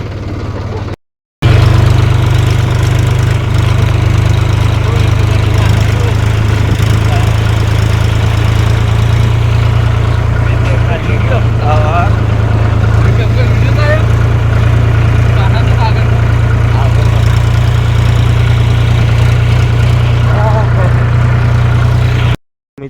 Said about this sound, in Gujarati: આપણે ટ્રેક્ટર ચલાવી રહ્યો તો નીકળી જઈએ છીએ